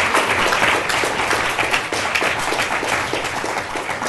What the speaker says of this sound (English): give the students one more round of applause for the work that they did